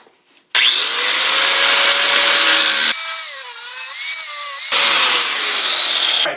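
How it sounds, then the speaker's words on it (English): An angle grinder fitted with a metal disc cuts through a piece of plexiglass, a loud, continuous high whine that starts abruptly, shifts pitch midway as the load changes, and then returns, with no talking. "I'm going to use my angle grinder with a metal disc on it to cut that piece out"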